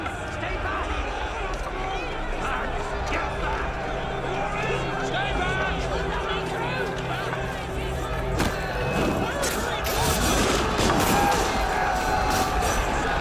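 A large crowd storms a palace in Paris in an Assassin's Creed game, with dense running footsteps, shouting, crashes and bursts of gunfire forming a loud continuous commotion that swells toward the end.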